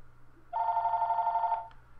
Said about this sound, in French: J'ai un téléphone là?